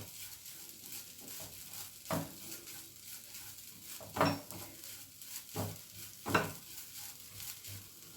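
Grated coconut is roasted and stirred in a pan for coconut barfi, with rhythmic spatula scrapes every couple of seconds over a low, steady sizzle.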